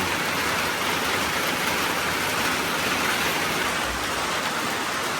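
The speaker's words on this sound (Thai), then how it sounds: "ฝนตกบรรยากาศมืดครึ้มอยู่พี่น้องเอ้ย" Heavy rain pours outdoors under a dark, overcast stormy sky, a dense, steady broadband hiss that stays loud and unbroken throughout with no voices.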